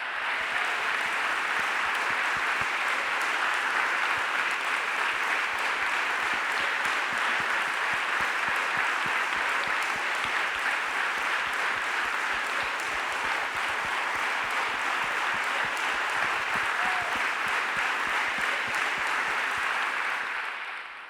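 Audience at a Catalan concert presentation applauding, a dense, loud, continuous clapping that holds steady for about twenty seconds from a sizable crowd before tapering off at the end.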